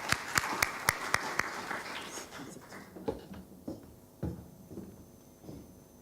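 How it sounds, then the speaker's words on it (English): At a plenary conference session, a handful of people clap sharply at first, then the applause thins into scattered, fainter claps and shuffling as a guest walks up to the stage. "Let's give him a clap as he comes up."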